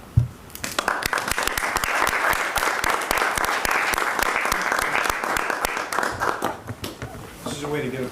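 A school committee meeting audience breaks into applause: crisp, close claps build quickly into a full round of clapping, which fades and gives way to a brief voice at the end.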